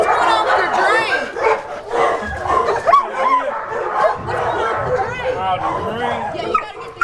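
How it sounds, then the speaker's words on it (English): Several dogs bark, yip and whimper in a pen at a small, poor county animal shelter, sounding close and continuous, mixed with people talking. "we see a pen full of dogs standing in feces-filled water"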